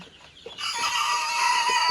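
Fayoumi chickens on a poultry farm cluck and crow nearby, with a few short clucks followed by a sustained, fairly loud crow, and no talking.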